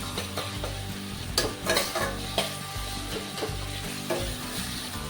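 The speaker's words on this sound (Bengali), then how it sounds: "মশলাটা ভালোভাবে কষে নিয়েছি মশলা থেকে তেলও ছাড়তে লেগেছে" Thick tomato-based masala for a Bengali katla fish kalia frying in oil until the oil separates, with a steady close sizzle broken by repeated scraping stirs of the spatula in the pan.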